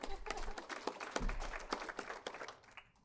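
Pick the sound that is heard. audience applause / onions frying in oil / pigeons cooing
audience applause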